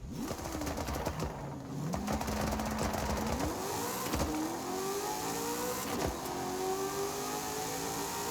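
Hot Wheels car in Forza Horizon 5 accelerating slowly, the engine tone climbing in a series of rising sweeps broken by gear shifts, fairly close and moderately loud, with no talking.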